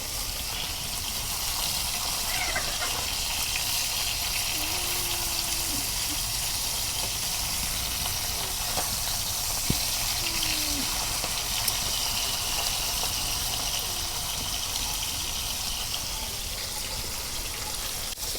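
Small fish, a catch of bata, sizzling in hot oil after being turned to fry the other side, a steady broadband hiss and crackle that carries on evenly throughout with no voices.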